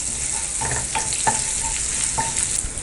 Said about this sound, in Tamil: பச்சை மிளகாய் நல்லா ஃப்ரை ஆகட்டும்.